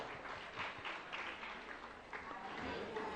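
Applause at a Jain religious gathering honouring student award winners: a soft, steady patter of crowd clapping, fairly faint and distant, with voices mixed in.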